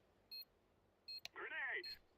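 Short electronic beeps from a planted bomb in a first-person shooter game, two or three quiet chirps spaced apart, followed by a brief tonal game voice announcement.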